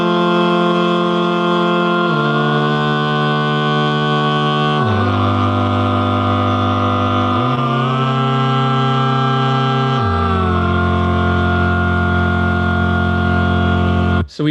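A vocal ensemble sings sustained chords in just intonation, holding each rich harmonic block before stepping to the next, the overall pitch gradually drifting upward across the phrases; loud, close and without speech.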